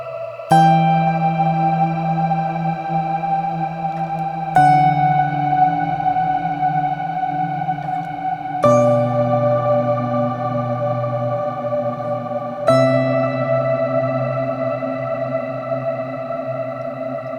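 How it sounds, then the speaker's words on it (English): An electric guitar plays four sustained notes through a reverb plug-in, each struck and left to ring into a wide, lush reverb tail that blends into the next. "this really is one of the best reverb plug-in sounds I've ever played through"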